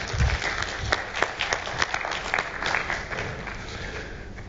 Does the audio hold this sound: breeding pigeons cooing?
no